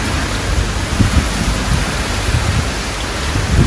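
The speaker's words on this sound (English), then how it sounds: "beautiful snap storm in Alberta" Steady rain pours during a snap thunderstorm over an Alberta garden, a loud, dense hiss with low rumbling thuds underneath, no voices.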